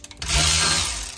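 A power tool whirs in one short, loud burst, spinning up sharply and then winding down after about a second.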